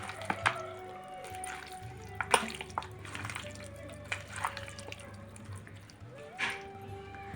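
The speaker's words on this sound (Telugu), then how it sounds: "చాలా తక్కువ అండి వాటర్ వేసుకొని కలుపుకుందాం." A small splash of water goes into a chicken pakodi mix, followed by wet, squishy stirring with a few soft clinks and taps over a low steady kitchen hum.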